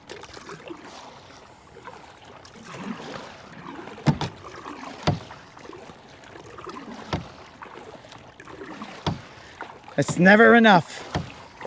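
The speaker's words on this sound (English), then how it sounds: "this is the first time that I've paddled in this fashion" A paddle works a kayak-style fishing boat used for bass fishing, making soft splashes and repeated knocks at a few strokes, while someone talks briefly and a sharp tonal whine comes near the end.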